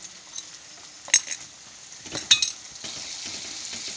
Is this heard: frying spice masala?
yes